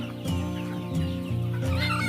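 Free-range village hens clucking close by, a steady overlapping stream of short throaty calls with no talking.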